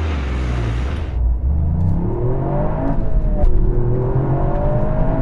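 A Toyota GR Yaris launches hard with stability control off, its engine roaring loud and close as it accelerates through the gears, with rising revs breaking at each shift.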